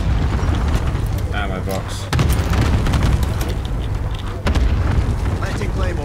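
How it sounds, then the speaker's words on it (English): Cluster strike explosions in an online multiplayer shooter game: a dense, rumbling barrage of booms with sharp bursts and two heavy impacts, loud and continuous under a player's spoken callouts. "Enemy cluster strike here."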